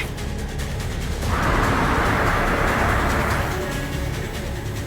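A car in a CID crime drama scene gives off a steady road rumble and hiss that swells louder through the middle, then eases back as it slows, with no voices over it.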